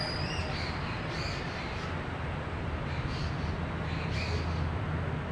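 A crow-like bird caws repeatedly at night, each call coming as a short, moderately distant burst over a steady, loud background hiss.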